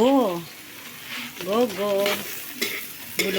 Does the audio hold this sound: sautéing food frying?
yes